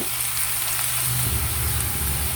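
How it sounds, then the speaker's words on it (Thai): Chili and garlic stir-fry over medium heat in a pan, giving a steady, close sizzle with a low rumbling undertone throughout. "เราจะผัดพริกที่ตามให้หอมก่อนนะคะ ผัดให้เหลืองหอมก่อนค่ะ"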